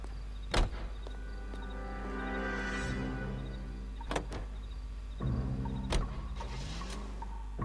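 A car door and engine in the video game L.A. Noire: sharp thunks of doors slamming are spread across the scene, over a low steady engine hum and a whirring mechanical sound.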